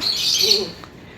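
A close, bright chirping call from a small pet bird, a Lutino Opaline, one short burst that trails off, with faint background noise.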